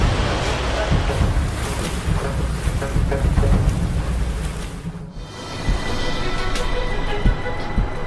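Rough open-sea waves surge and crash against a giant cargo ship, a loud continuous roar of water and wind with heavy thumps, easing briefly before building again.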